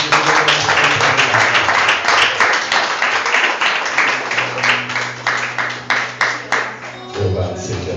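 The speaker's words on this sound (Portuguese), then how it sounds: "Aplauda o Senhor em nome de Jesus." Congregation applauding in a church, a dense crackle of many hands clapping steadily for several seconds before it thins and fades out, with a sustained tone underneath and a voice coming in at the end.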